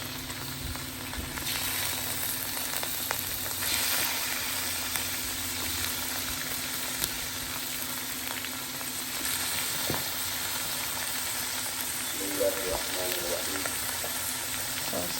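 Chicken pieces fry in hot oil in a pan, giving a steady, close crackling sizzle that runs throughout, with occasional small pops and faint background hum.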